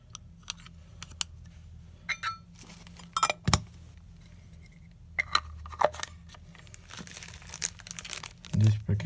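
A small plastic bag holding camera lens diaphragm plates is handled, giving scattered crinkling rustles with a few sharper clicks, fairly close and moderately quiet, while a voice speaks over them.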